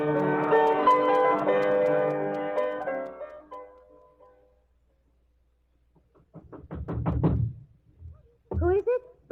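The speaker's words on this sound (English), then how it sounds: "Who do you think you are banging on people's doors this time of night?" After a stretch of dialogue in a radio-drama Western, a quick burst of loud knocking and banging hits a door, then a second shorter round of knocks follows.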